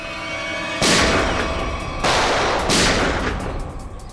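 Three sharp, loud gunshots burst out one after another, each with a long ringing decay, over a steady background hum.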